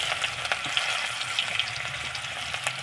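Onions frying in a pan with salt, food colouring and garam masala for chicken kosha, a continuous bright sizzle with occasional stirring clicks and spatters, steady and close, without speech.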